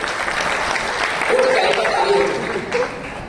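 An audience claps after a poem recited during a talk, a steady, fairly loud wash of applause lasting a few seconds, with some voices mixed in.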